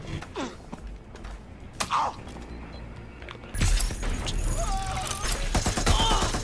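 Bursts of rapid gunfire in the video game Watch Dogs: Legion, with scattered thuds and impacts before a louder, denser stretch of shooting, with game sounds and voices in the background.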